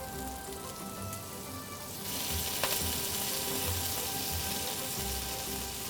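Fat sizzles slowly in a pan for yaki udon, a steady close crackle that grows louder and denser partway through and continues alone without talk.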